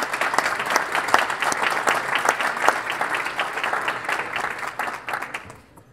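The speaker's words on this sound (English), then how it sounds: "Give her a round of applause." A roomful of guests at the 2019 Ingham County Treatment Courts Foundation annual breakfast gives sustained, crisp applause for an honoree, steady for several seconds before tapering off at the end.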